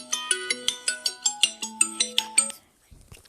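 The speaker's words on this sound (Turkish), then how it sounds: "Arkadaşlar telefon çaldı." A phone ringtone plays a bright electronic melody of about a dozen quick plucked notes over two and a half seconds, then stops, followed by faint rustling, during a Roblox parkour game session.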